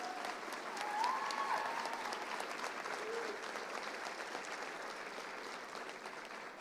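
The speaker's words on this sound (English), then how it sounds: "Please thank and have a nice round of applause for our students before they are awarded." Applause for students at the Colorado Youth Citizenship Awards ceremony, a soft, distant, even patter of many hands that holds steady and fades slightly toward the end.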